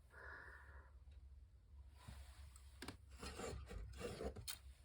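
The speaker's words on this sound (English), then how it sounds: "now we can take my little corner trimmer" A small handheld corner trimmer rounds off the corners of a stack of paper, heard as quiet, close scraping and rubbing strokes followed by a few crisp cuts and snips, faint overall.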